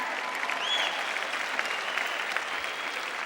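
A church congregation applauding, with steady, dense clapping from many hands filling the room throughout.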